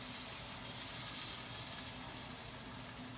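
Onions searing with brisket in a hot pan, a faint, steady hiss and sizzle running evenly through a short stretch with no talk.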